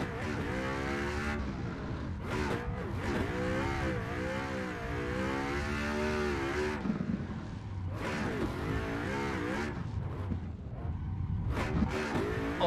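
Ford Mustang RTR Pro drift car in Assetto Corsa, its engine revving and bouncing through steady high-rpm pulls with rising and falling pitch, loud and continuous, with tire noise mixed in.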